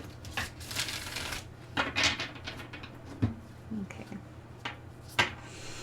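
Cards being shuffled up close, a flurry of papery riffles and soft slaps followed by scattered taps and shuffles, with faint background hum.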